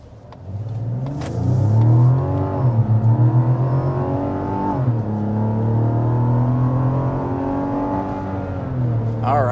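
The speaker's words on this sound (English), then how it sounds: "there's past 60 miles an hour in the all-new Mazda CX-90" A 2024 Mazda CX-90 in sport mode accelerates hard past 60 mph, its engine note climbing steadily through the gears with brief dips at shifts, loud and continuous from the cabin.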